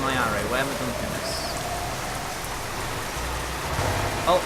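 Continuous rain in Euro Truck Simulator 2, a steady broadband patter layered over a low truck engine drone, holding even throughout with a brief voice near the start.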